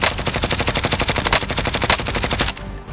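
Rapid automatic gunfire in the Warzone video game rattles in a dense, continuous burst of evenly spaced shots, loud and close, then cuts off abruptly near the end.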